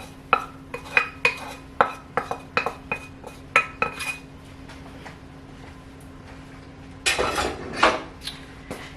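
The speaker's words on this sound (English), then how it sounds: "I'm going to use this spoon for right now to get it mixed all up" Spoon stirring an onion and pepper mixture in a hot pot, a series of sharp metallic clinks and scrapes in a steady rhythm, then a denser burst of scraping near the end, close and fairly loud with no talk.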